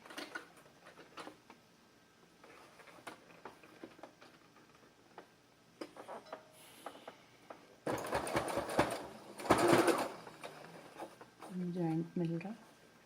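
A sewing machine stitches the side seams of a baby frock in two short, fairly loud bursts, with quiet clicks and soft handling of cloth between them.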